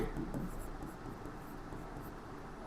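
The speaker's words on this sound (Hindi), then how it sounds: "तो लिख लेते हैं" A pen scratches on paper during a maths lesson, with faint, continuous strokes and small taps close by in a quiet room.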